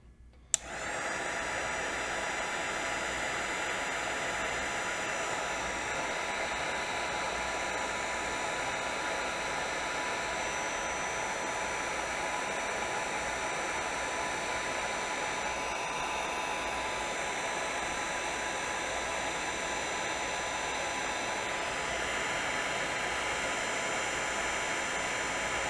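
A heat gun blows steadily while shrinking heat shrink tubing on a Lego Powered Up to Power Functions adapter, a continuous loud whooshing hiss after a brief click at the start, unchanging for the whole stretch with no voices.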